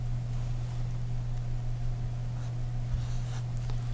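A lecturer draws on a board during a class on wireless networking, the faint scratching strokes of the marker coming over a steady low hum, with a brief louder stroke near the end.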